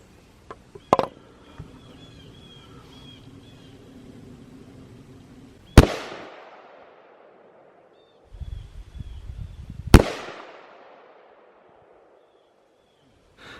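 A .44 Magnum revolver fires at a padlock in two sharp, loud gunshots several seconds apart, each with a ringing decay, along with quieter handling clicks and rustling between the shots.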